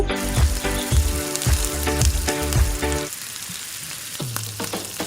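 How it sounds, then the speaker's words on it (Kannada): Mustard seeds, cumin and curry leaves sizzle and crackle in hot oil for North Karnataka girmit. A steady, close frying hiss with scattered pops runs throughout, and tonal background sounds sit beneath it. "ಜೀರಿಗೆ ಸಾಸಿವೆ ಚಟ್ಪಟ್ ಅಂತ ಸಿಡಿದ ನಂತರ ಸ್ವಲ್ಪ ಕರಿಬೇವು ಸೊಪ್ಪು"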